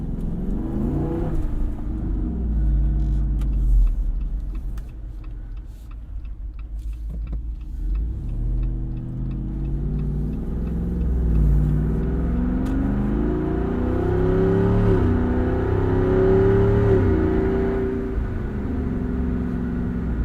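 A Jeep Wrangler 392 driving on a snowy road, its engine droning steadily and rising and falling in pitch as it shifts and accelerates, with a low rumble throughout and no voices.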